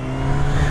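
A new Honda CB1000 motorcycle idling with a deep, steady exhaust rumble, loud and close, alone without any voices.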